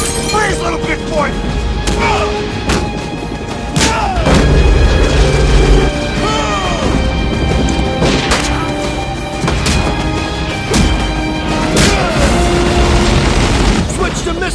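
Gunfire from a helicopter in the 1997 action film Con Air booms and cracks in loud repeated blasts and impacts over engine roar and music, with shouting voices mixed in.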